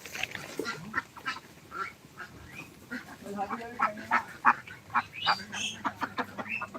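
Ducks quacking repeatedly nearby at a duck farm after rain, a rapid chorus of nasal calls that grows busier and louder toward the end.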